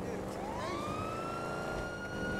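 A police car siren in the video game GTA V wails steadily with a rising tone, mid-distance and moderately loud, over a continuous engine rumble.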